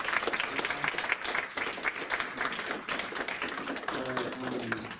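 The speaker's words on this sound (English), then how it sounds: "could we get a huge round of applause from the guest panelists?" Audience applause at a panel event, steady clapping throughout with some voices mixed in near the end.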